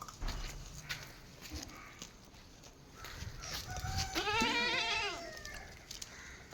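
Young goat kids offered for sale at a Malappuram farm, bleating in a short warbling cry over faint background chatter and farmyard noise.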